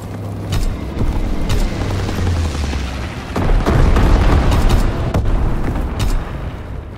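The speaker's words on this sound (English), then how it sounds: "Enemy bomber, incendiary bombs incoming!" Heavy booming blasts from incendiary bombs dropped by an enemy bomber in a wartime shooter, deep rumbling impacts rolling over each other with sharp cracks, loud and continuous.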